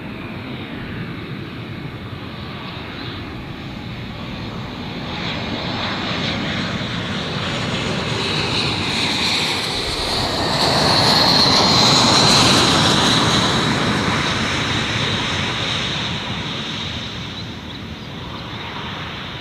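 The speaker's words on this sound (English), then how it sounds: "That was quite a nice landing." Airliner landing at Gold Coast Airport, a steady roar of aircraft engines that swells as it passes close, peaks, then slowly fades, heard alone.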